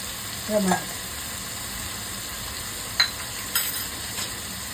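Prawn masala with colocasia and coconut being stirred in a pan, a steady low sizzle underneath with a few brief scraping stirs of the spoon, close and moderately quiet.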